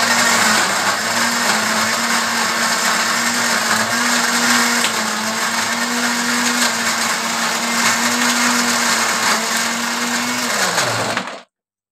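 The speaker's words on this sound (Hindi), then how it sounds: "अभी इसको ब्लेंड कर लेते हैं।" A kitchen juice blender whirs loudly and steadily close by, mixing soap with a glass of warm water for homemade handwash, then stops abruptly at the end.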